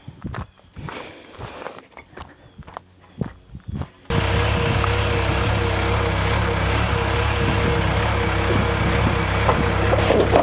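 A skid steer lifting a framed wall on a building site: a few seconds of footsteps and knocks, then a loud, steady engine roar that runs without pause to the end.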